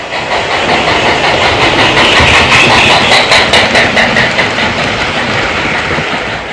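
A 1973 Lionel Mighty Sound of Steam Milwaukee Road toy train set runs with loud, close, steady chuffing and a clattering mechanical rattle, constant for several seconds with no voices.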